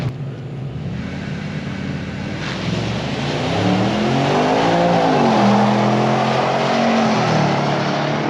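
An Audi S6/S7/RS7 drag car launches on sticky tires at a track. The engine note is loud and close, and it climbs and swells in pitch as it accelerates hard.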